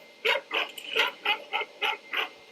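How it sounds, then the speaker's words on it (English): Dogs bark in a quick series of about seven sharp yelps and barks, three or four layered together on one track as a sound effect for the horror game Die In The Dark, fairly close and evenly spaced. "I wanted to put these dogs in the game"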